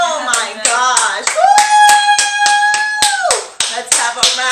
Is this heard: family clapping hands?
yes